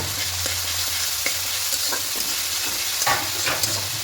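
Ginger garlic paste sizzles steadily in a hot pan for a spicy egg curry, with a few scraping stirs of a spoon breaking through the constant frying hiss, close and moderately loud.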